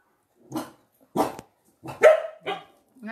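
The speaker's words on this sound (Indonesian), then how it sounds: "Ada orang, jangan gonggong, enggak boleh gonggong." A dog barks alone, close by, in five short, separate woofs spread over about three seconds, with one rising into a brief whine.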